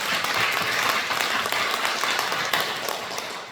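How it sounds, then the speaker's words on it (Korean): A church congregation claps in thanks during a worship service, a dense, steady wash of many hands filling the room at moderate distance, with no voices rising above it. "말씀을 통해서 큰 은혜 주신 하나님께 감사의 박수 드리겠습니다"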